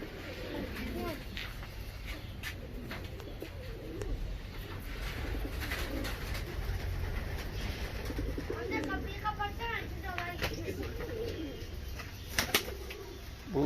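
Ornamental pigeons coo softly in their coop, repeated low throaty calls with a few brighter chirps, heard over a faint steady background hum.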